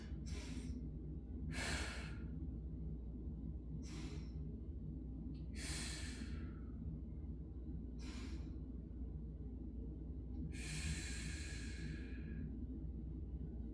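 Slow, audible breaths during a strength and balance exercise: six soft breathy inhales and exhales spaced a couple of seconds apart over a quiet low background hum.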